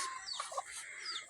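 Mother hens with chicks on a small farm clucking and calling softly at a moderate distance, several overlapping cackles and chirps over steady outdoor ambience.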